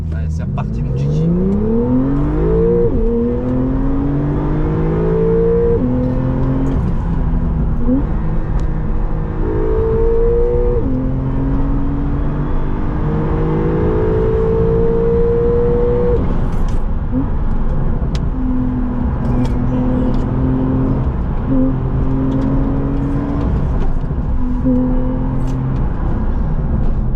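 A Porsche Carrera accelerates on the road, its engine pitch climbing repeatedly through the gears with clear shifts between pulls, loud and close from inside the car while people talk over it.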